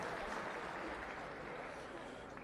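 Audience applause at a State of the City luncheon in a convention center, a dense steady clapping from a large crowd filling the whole stretch, fading slightly at the end.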